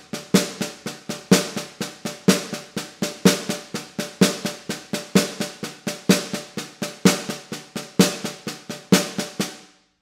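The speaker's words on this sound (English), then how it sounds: "So the caixa is playing the afterbeat." Caixa snare drum in a samba reggae groove plays a steady afterbeat pattern of crisp, rattling strokes with regular accents, loud and close, with no voices.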